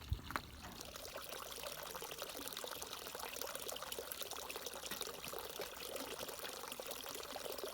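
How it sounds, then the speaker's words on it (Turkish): Water pours from an outdoor fountain into a black kettle at a nomadic camp stop, a steady splashing trickle that runs continuously after a brief knock at the start. "Kara çaydanlığa bir su dolduran bakalım çeşmede."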